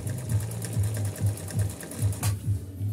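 A Pfaff Hobby Matic 808 sewing machine runs a zigzag stitch, its needle thumping in a quick, even mechanical rhythm, close and loud, with a brief clack near the end.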